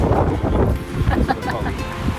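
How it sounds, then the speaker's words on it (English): Strong wind roars and buffets the microphone in a steady low rumble at the Pali Lookout on Oahu, with muffled voices partly buried underneath. "It's very windy."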